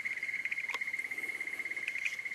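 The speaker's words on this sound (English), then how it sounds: "crickets and the noise going on around" Steady, fast crickets chirping in a high, pulsing trill, faint and unbroken, with a quiet night background in an Australian state forest and no talking.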